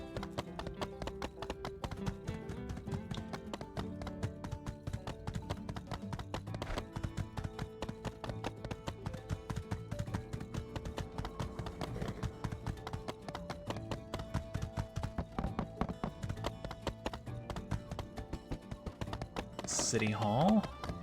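Rhythmic horse hoof clip-clops in the video game My Time at Sandrock tap along steadily under background music, a continuous trotting pattern that carries through to the end.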